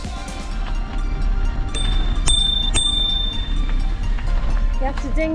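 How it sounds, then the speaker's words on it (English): A bicycle bell dings twice, bright and clear, over a steady low rumble of rolling wheels and background noise, on a canal towpath cycle route. "You have to ding your bell as you're going around blind corners."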